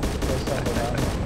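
Heavy gunfire in the Arma 2 video game during an armor assault, a steady barrage of overlapping shots for a second or so, with a voice mixed in underneath.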